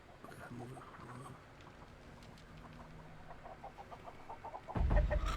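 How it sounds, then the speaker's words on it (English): Chicken clucking alarm in The Texas Chain Saw Massacre game, a few faint clucks under a player's talk, ending with a louder burst of clucking near the end. "I think he heard my chicken go off."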